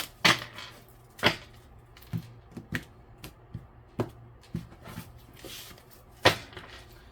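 Tarot cards being shuffled by hand in a quiet room, a run of dry papery slaps and riffles arriving in irregular bursts, close and fairly soft, with no talking.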